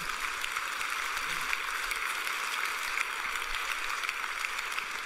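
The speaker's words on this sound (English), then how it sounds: "Now you can clap for that." A large church audience applauding at a sermon, steady dense clapping that holds evenly at moderate loudness, heard from a distance.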